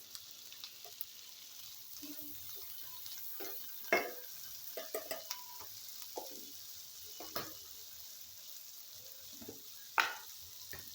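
Mung dal with turmeric, cumin and chilli powder being stirred in a hot pan, a quiet continuous sizzle broken by irregular scraping strokes and a few sharper spatula knocks against the metal, close up.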